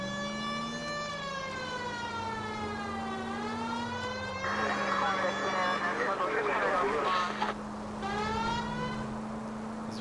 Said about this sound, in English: This is what happens when you flip on the siren switch